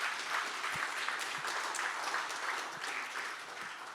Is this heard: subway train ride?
no